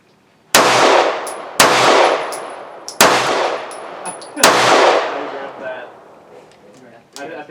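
A Firestar M43 9mm pistol fires four sharp, loud shots about a second or so apart, each with a metallic ring and a decaying echo. A misfeed interrupts the string, and a faint clack follows near the end.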